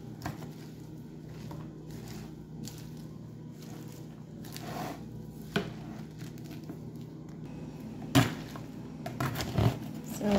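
Lettuce, parsley and mint being mixed for a fish salad, with soft rustling, crinkling and light patter that keep up in short bursts, plus a few sharper clatters near the end.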